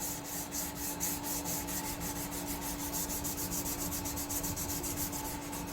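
A bush knife blade is sharpened with a small hand tool, worked along the edge in steady, repeated rasping strokes that continue evenly throughout, close and moderately loud with no talking.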